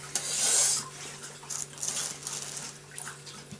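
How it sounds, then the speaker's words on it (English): Soft, wet lapping close by, a rhythmic run of quick licks and splashes at water, with a faint steady hum underneath. "And you can hear my dog's lapping his water up."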